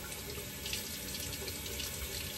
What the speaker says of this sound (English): when you do rinse it underwater, the water goes in and you see it shooting out the sides